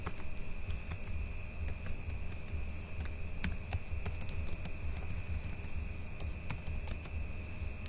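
Fast, steady typing on a computer keyboard, close and clear, with crisp key clicks tapping out in a continuous run.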